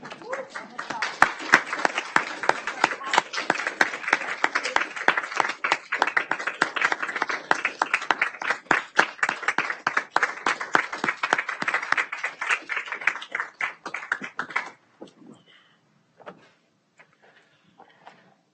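Applause at a board of trustees meeting, a dense steady clapping from the gathered room lasting about fifteen seconds before thinning out to a few scattered final claps.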